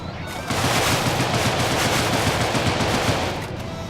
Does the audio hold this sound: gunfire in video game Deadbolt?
yes